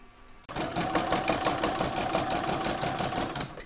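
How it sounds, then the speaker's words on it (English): A home embroidery machine stitches a patchwork star design held in a hoop, a steady rapid mechanical chatter of needle strokes starting abruptly and running continuously, close and fairly loud with no talking. "I'm now going to pop that back in my machine and stitch round number 4 to secure it"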